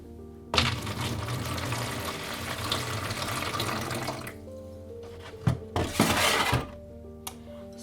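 Washed vitreous enamel grains and water pour into a container in a steady rush lasting about four seconds, followed by a few shorter splashing pours.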